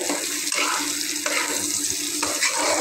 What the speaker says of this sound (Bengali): এরপরে আমি রসুনগুলোতে এই যে আবার কিছুটা মরিচের গুঁড়া দিয়ে ভাজবো